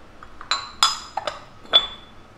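Glutinous rice flour and tapioca flour mixture being stirred in a bowl, a handful of short hard clinks and taps of utensil against the bowl, close and sparse in a quiet room.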